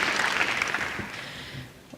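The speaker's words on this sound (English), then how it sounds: "we can applaud that" Audience applause at a plenary session of a conference on rights of nature, a dense steady patter of many hands that holds for most of the stretch and then thins and fades near the end.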